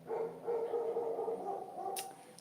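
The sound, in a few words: dogs barking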